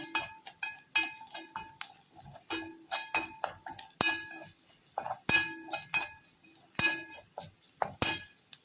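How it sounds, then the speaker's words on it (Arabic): Onions sautéing with black pepper in a pan as peas with meat are cooked, heard as soft sizzling broken by repeated clinks and scrapes of a spoon stirring against the pan, close up with no talking. "نشوحها مع البصل كده لحد ما تسخن وتطلع ريحة الفلفل الأسمر"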